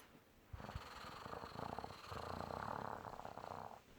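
A voice imitates a cat purring, a low rhythmic rumbling growl held for a few seconds, close and fairly soft.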